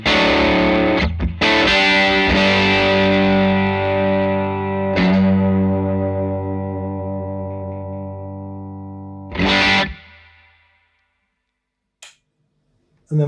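Distorted electric guitar played through a Victory VC35 The Copper amplifier, loud sustained chords with effects rings that decay slowly, a short restruck chord near the end, then silence with a brief final pick noise.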